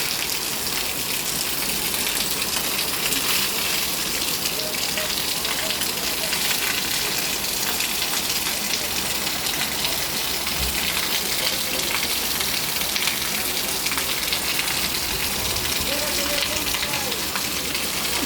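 Heavy downpour pounding down for about two minutes, with runoff starting to flow in drains and channels after a long dry summer; a dense, steady broadband roar that stays loud and even throughout, without pauses.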